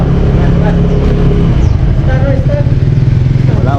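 A newly bought motorcycle's engine drones loudly and steadily while riding, with wind rush and road noise, and voices talking over it.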